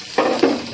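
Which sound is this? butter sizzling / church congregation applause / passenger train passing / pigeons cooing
butter sizzling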